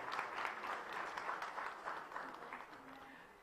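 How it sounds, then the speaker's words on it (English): An audience at a pharmaceutical industry congress gives a round of applause, a steady, even wash of many hands clapping, heard from a little distance and fading slightly toward the end. "So really huge round of applause for all of you."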